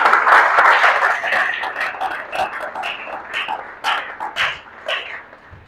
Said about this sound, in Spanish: Un aplauso al Rey, hermano.